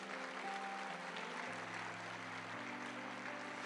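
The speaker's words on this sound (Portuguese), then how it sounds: "Aplauda o Senhor então bem forte." A church congregation applauds during a sermon, a faint, steady wash of clapping blended with sustained keyboard or organ chords underneath.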